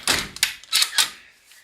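An indoor door at a resort cabin being pushed shut, a few quick thuds and knocks in close succession, near and fairly loud, with no talking.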